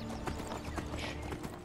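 Horse hooves clip-clop in Skyrim, a steady run of close hoof strikes on hard ground at a walking rhythm, fairly quiet, with no talk over them.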